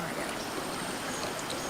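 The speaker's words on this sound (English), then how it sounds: "I'm peeing right now." A man urinates into river water in the Amazon, a close, steady trickle splashing into the surface for a couple of seconds with no talking.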